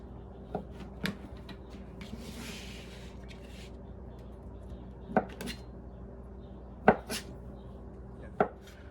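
Sparse, sharp knife chops on a cutting board, a few isolated strikes spaced seconds apart in a quiet kitchen.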